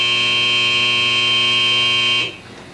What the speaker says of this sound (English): an alarm sounds here to tell the operator that he needs to do something